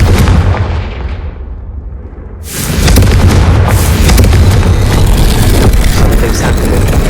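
Confringo fire spell explosions booming in the video game Hogwarts Legacy: a loud blast that fades briefly, then a second heavy explosion with a rumbling, crackling roar that sustains to the end.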